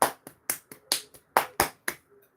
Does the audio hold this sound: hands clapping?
yes